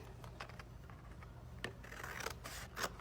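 Scissors snipping through recycled paper while making a gift box, a series of close, crisp cuts and rustles of varied spacing over a low steady hum, with no talking.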